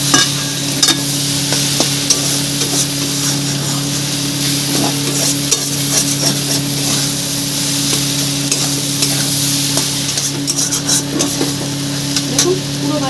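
Elephant foot yam and shrimp are stir-fried in a pan, giving a continuous, dense sizzle with frequent scraping stirs and small clicks of the spatula across the whole stretch.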